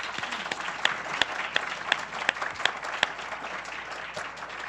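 Scattered applause from a crowd, with a few sharp individual claps standing out over a steady patter, moderately distant.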